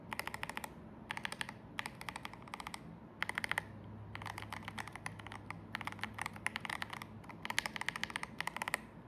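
Typing on a Keychron J8 HE 8K mechanical keyboard, a run of crisp, close clacks arriving in quick bursts with short pauses between them and no voices over it.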